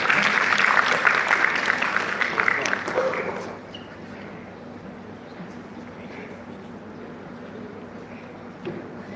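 A seminar audience at a Malaysian university applauding a speaker, steady clapping for about three seconds that then fades into room murmur and quiet background noise.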